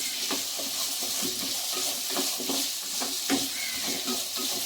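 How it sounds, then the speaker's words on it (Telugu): Onion and tomato cooking gently in a pan for a cashew pakoda curry, a steady soft sizzle with light stirring scrapes ticking through it, close and continuous, no voices. "కొంచెం ఆనియన్, టమాటా ఒక లైట్గా మగ్గితే సరిపోతుంది."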